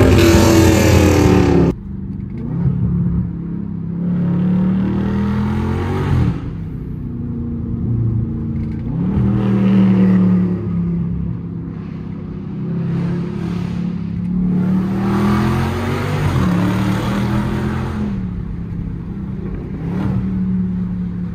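A loud, raspy catless exhaust on a Dodge Challenger SRT revs repeatedly, the engine rising and falling in several rough bursts with a deep rumble throughout, close by and with no talk.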